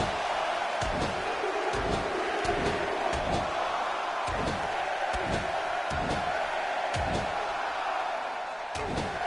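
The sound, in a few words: wrestling crowd reacting in a video game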